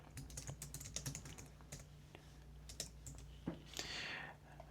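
Keys clatter on a computer keyboard as code is typed, a quick irregular run of close clicks with brief pauses and a louder burst near the end, over a low steady hum.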